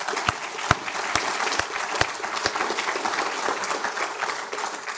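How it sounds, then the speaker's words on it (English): Audience applause at a safety council annual meeting and awards event, a full, sustained round of clapping from a sizable crowd with a few sharper individual claps standing out, no talk. "Let's give Chris a round of applause."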